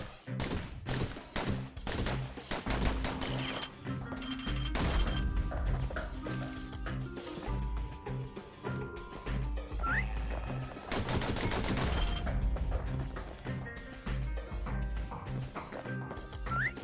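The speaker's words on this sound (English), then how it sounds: "Those pistols could spit out rounds just as quick as you could pull the trigger." Rapid pistol fire at targets in a video game, many quick loud shots in bursts over a dense layer of game music and effects, with brief sharp impact sounds throughout.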